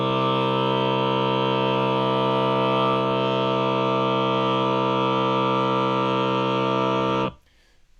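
A harmonic seventh tuned 31 cents below equal temperament, sounding as a steady, buzzy sustained chord held for about seven seconds that then cuts off abruptly.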